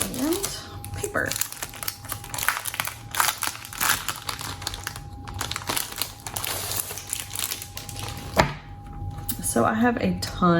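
Sheets of classic-size planner filler paper rustle, crinkle and snap as they are handled up close, continuously, with a steady hum underneath and a person speaking over parts of it.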